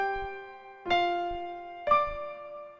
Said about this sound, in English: So my thumb is going to play just a half second before my pinky does.